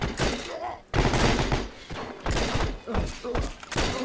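Pistol gunfire in a first-person shooter game, loud repeated shots in several bursts separated by short pauses.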